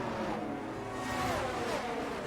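Simulated F1 race cars from the F1 2022 game streaming down Bahrain's main straight, a steady high engine whine with shifting pitch as one car passes another, continuous and fairly loud with no talk.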